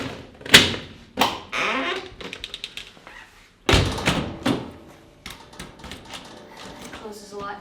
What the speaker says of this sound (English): It closes a lot nicer than our RV door.